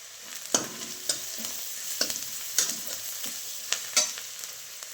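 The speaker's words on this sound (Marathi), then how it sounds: "कांदा चांगला भाजला आहे, आता त्याच्यामध्ये थोडीशी हळद टाकते" Onion with a little turmeric fries in a pan over a wood-fired stove, a soft sizzle punctuated by regular sharp scrapes and knocks of a spoon roughly every half second, with no voices.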